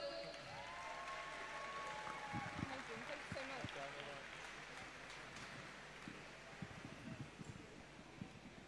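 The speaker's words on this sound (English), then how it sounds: "give a big round of applause for Jonathan." A crowd applauds continuously at a para-swimming competition, the broad hiss of clapping spreading through a large indoor pool hall while a voice talks over it.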